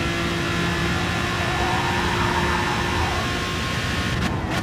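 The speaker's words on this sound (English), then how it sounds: "Notice how first gear is not giving me any issues of bouncing off the rev limiter when I downshift to." Aston Martin DBR9 race car in Gran Turismo Sport with a short first gear, engine whining steadily as it downshifts near the rev limiter, pitch sliding through a brief dip near the end; close, continuous, no voices.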